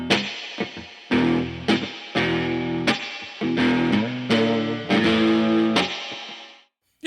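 Old electric guitar, such as a Fender Coronet or Duosonic, played through reverb and distortion effects: a run of loud, sustained distorted chords struck in rhythmic bursts, each ringing with washy reverb before stopping abruptly into near silence.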